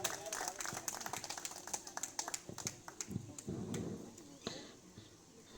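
Scattered, quiet clapping from a small audience at a rural farmers' training event in India, irregular claps and taps thinning out over a few seconds with a voice speaking underneath.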